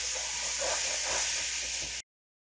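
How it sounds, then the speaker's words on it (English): Hot water sizzles and hisses on a wet grill grate as a GRILLART bristle-free brush scrubs it, a steady close steamy hiss that cuts off abruptly. "And then I'll usually get it wet again and just keep scrubbing."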